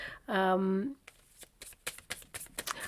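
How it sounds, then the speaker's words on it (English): A tarot deck is shuffled, with quick riffling and papery card flicks following a short sung or spoken voiced note, the card sounds close and brisk. "in this deck that I'm shuffling right now"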